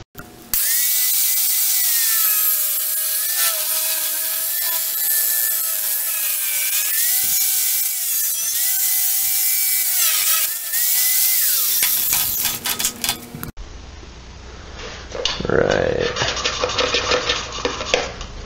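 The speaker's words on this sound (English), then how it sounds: "I'm just gonna have to cut a small hole right there" A power tool cuts a small hole in a metal part of a Doodle Bug 6.5 HP mini-bike during a torque converter conversion, whining steadily and loudly for about twelve seconds before stopping, followed by quieter handling noises.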